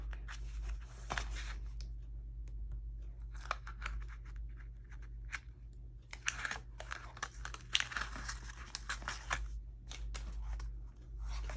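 Adhesive tape being pulled and pressed onto a 6x6 paper mini album, a run of crinkly tearing and sticking sounds in short bursts over a steady low hum, fairly quiet and close.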